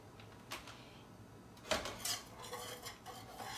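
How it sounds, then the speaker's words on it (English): A utensil scrapes and clinks against a pan as mozzarella and Parmesan melt inside. The sound is faint and quiet, with a few sharp metallic taps and a brief cluster of scrapes in the middle. "And just start stirring that around."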